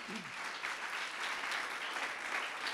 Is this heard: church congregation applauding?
yes